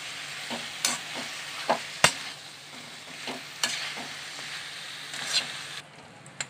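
Palak chicken curry being stirred in a hot pan, with turmeric and salt mixed in: a spoon scrapes and knocks the pan in a loose, irregular rhythm over a constant sizzle, up close, with no voices.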